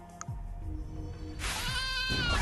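A sheep bleats in the Athenion card game, a short, harmonic, wavering cry that rises over game sound effects near the end of the clip.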